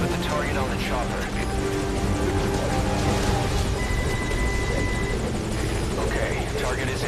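Continuous, loud rotor thrum from a hovering helicopter in Metal Gear Solid Ground Zeroes, a game scene where voices and tonal game sounds sit on top of the unbroken drone.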